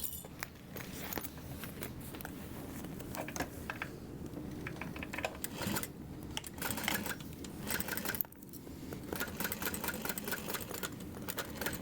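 A domestic sewing machine stitches a 3-in-1 bubble bag, its needle chattering in a steady mechanical run with brief pauses and restarts, close and fairly loud throughout.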